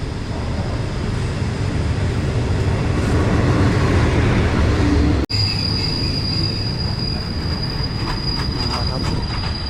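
A passenger train rolls along the rails with a loud, steady rumble and a persistent high wheel squeal, heard close from on board with no talk.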